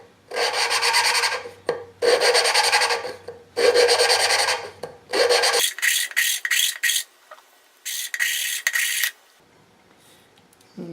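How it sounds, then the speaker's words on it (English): A valve on a 1963 Studebaker Lark is lapped by hand with fresh compound, giving loud gritty back-and-forth rubbing strokes in several long bursts, then a run of shorter, quicker rasping twists that trail off. "So this will be the second time I'm lapping it with fresh compound."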